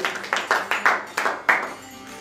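A small audience at a Lyon restaurant award ceremony claps for the restaurant's owner, a handful of distinct, fairly sharp claps spaced unevenly over about two seconds, nearby and sparse rather than a full ovation.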